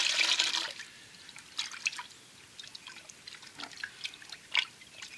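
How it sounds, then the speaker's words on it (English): A raccoon tail is rinsed in a salt water bath, with a splashing pour at the start followed by sparse drips and small sloshing sounds, quiet and close. "I'm just going to keep rinse it real good in this salt bath."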